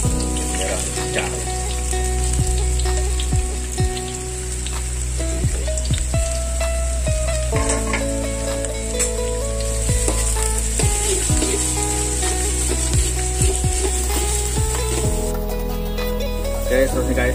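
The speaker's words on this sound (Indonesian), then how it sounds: "Okay, minyak dah pernah ada. Kita masukkan bawang merah." Small red shallots (bawang merah) fry in hot oil for tomyam fried rice, a loud steady sizzle with occasional stirring clatter, close up and without talk.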